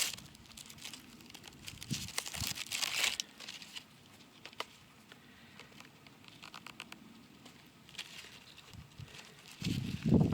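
Dry papery skins of an old wrapped onion being peeled and unwrapped by hand, close crinkling, crackling and scratching in uneven bursts with quieter pauses between.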